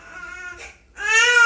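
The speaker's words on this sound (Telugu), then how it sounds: "పాపనైతే ఏడుస్తుంది" A baby girl cries close by in two wailing bursts split by a short catch of breath, the second louder and more strained.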